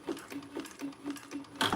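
A sewing machine runs through a seam in short, rapid bursts, its needle thumping in a steady mechanical rhythm up close, ending with a sharper clack.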